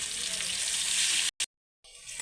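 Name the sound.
chopped onions frying in oil in a wok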